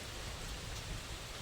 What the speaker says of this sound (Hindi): आज है इधर बरसात का मौसम, मतलब पानी गिर रहा है।